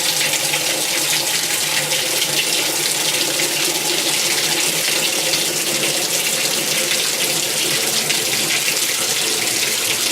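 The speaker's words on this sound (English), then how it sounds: "As you can see, the washer is filling." Water gushes steadily into the tub of a Whirlpool vertical modular washing machine in test mode, a continuous rushing fill that stays loud and unchanged throughout.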